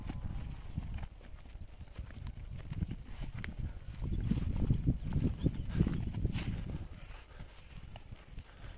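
A big, well-fed farm horse walks along, its hooves clip-clopping in a faint, steady rhythm against soft background noise.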